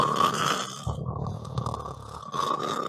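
A voice imitates the snoring of a sleeping character overly stuffed with tacos, giving a close, nasal, rasping rumble that swells and fades in a couple of drawn-out breaths.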